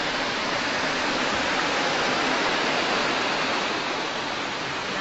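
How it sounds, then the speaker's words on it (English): A jungle waterfall roars as a dense, steady wash of falling water, loud and unbroken throughout with no voices. "We made it to the waterfall."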